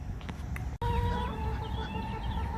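Chickens clucking close by, a steady murmur of soft calls over a constant background hum, with a brief dropout near the start.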